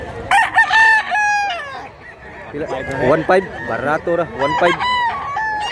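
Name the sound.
rooster crowing at gamefowl market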